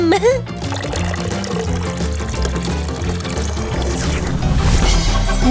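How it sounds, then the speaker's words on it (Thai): Water pours into a bathtub in a video game, a steady running splash under busy background music with some talk. "เทน้ำแปลงร่าง เป็นนางเงือกจ้า"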